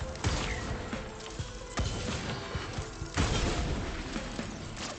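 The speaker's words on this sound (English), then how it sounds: "And that explosion of killing all the wisps" Explosion and combat effects in Risk of Rain 2 as wisps are killed, several sharp bangs and thuds at irregular moments with a bigger burst near the end, amid cluttered game noise.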